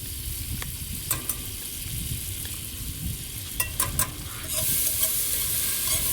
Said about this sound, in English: we're gonna go ahead and put the butter in here